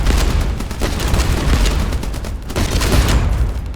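Machine gun fire in the naval combat game Age of Water, a loud dense rattle of rapid shots with heavy booming impacts mixed in, sustained throughout and close.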